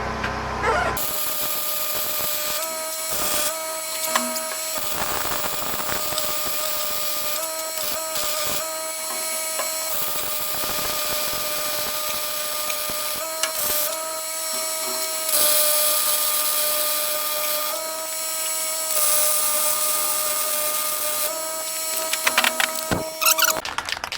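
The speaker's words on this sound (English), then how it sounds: "Welding out the other side now." Welding on the mount for a dump trailer's spare tire gives a loud, steady buzzing crackle that starts and stops in several bursts separated by short quiet gaps, heard close and without talk.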